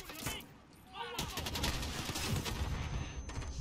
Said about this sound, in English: It just keeps on shooting me!